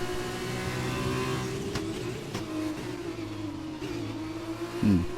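An F2 race car engine in the F2 2020 video game at Hungary revs steadily with a droning, harmonic whine, loud and close, rising briefly near the end.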